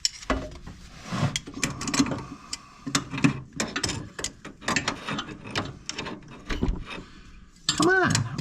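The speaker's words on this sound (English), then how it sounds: "I've never had this much trouble with putting freaking channel locks on this mower" Channel lock pliers fitted onto a lawn mower: metallic clicks, clanks and ratcheting scrapes in irregular bursts, close by, with a voice talking over parts of it.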